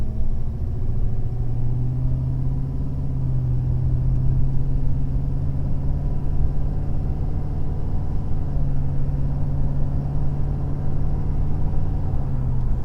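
A Ford 6.7 Powerstroke diesel truck fitted with a race pipe exhaust gives a loud, deep, steady rumble. It holds close and unbroken throughout, with a slight swell in the middle and no voices.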